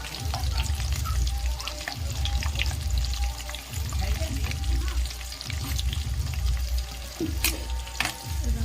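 Capsicum frying lightly in a pan for restaurant-style chili chicken, a steady close sizzle with repeated low stirring scrapes in a regular rhythm, no talking.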